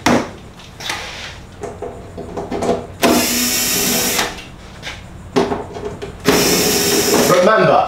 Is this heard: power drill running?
yes